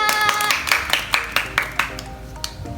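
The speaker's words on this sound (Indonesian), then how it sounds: "Tepuk tangan buat Eva." A junior high class in Banyumas claps for a student named Eva, about eight separate hand claps with a loose rhythm and a slow fade. Faint voices and a few tonal sounds run underneath.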